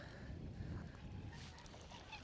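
Distant geese honk amid faint outdoor background noise at a wetland, a few soft calls in the latter half.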